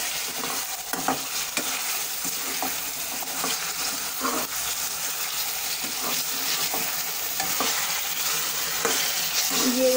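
Chunks of meat (gosht) fry in a pan with a steady, fairly loud sizzle and crackle, and a few stirring scrapes and clicks come through over the continuous hiss.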